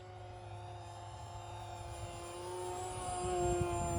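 An E-flite SE5A 900mm RC model biplane flying aerobatics, its electric motor giving a faint, steady high whine that rises slightly as it nears.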